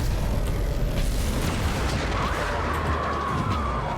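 Warframe Railjack ship ramming enemy craft in space combat, a dense, loud roar of booming impacts and rumbling engine noise that continues without a break for the whole stretch.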